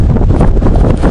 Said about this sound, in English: Extremely windy.